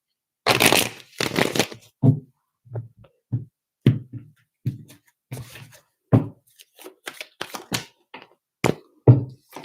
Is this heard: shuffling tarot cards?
yes